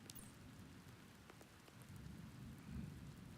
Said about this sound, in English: What's with this rain all of a sudden? Odin, are you still going out in this downpour?